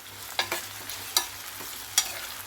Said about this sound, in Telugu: ఇప్పుడు కట్ చేసి పెట్టుకున్న టమోటాలు వేస్తున్నాను ఉల్లిపాయలు లైట్గా వేగినవి